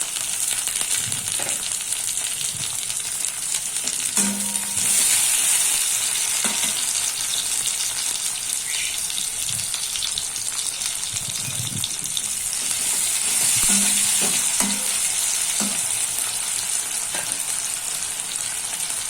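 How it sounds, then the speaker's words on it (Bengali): Steady sizzling from tomatoes, slit green chillies and salt frying in oil over browned onions, for a Bengali tangra fish curry. The hiss is continuous and close, broken by a few soft stirring knocks. "এর ওপর কোচানো টমেটো, চেরা কাঁচা লঙ্কা আর স্বাদ মতো নুন দিয়ে দেবো,"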